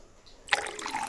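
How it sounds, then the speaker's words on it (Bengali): Hot tea poured from a flask into a cup: after a quiet start, a short trickling splash of liquid begins midway and keeps running, close and soft. "ফ্লাক্স থেকে গরম চা ঢেলে দিতে পারবি তো এক পেয়ালা নাকি?"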